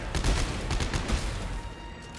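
Rapid bursts of gunfire from the Dead Space 3 video game, a dense fusillade of shots rattling in quick succession at steady loudness without speech.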